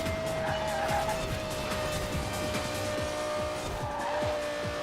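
A Porsche Carrera GT tearing along at high speed in Forza Horizon 4, its engine holding a steady loud whine while tires squeal and chassis noise thumps underneath, close and continuous.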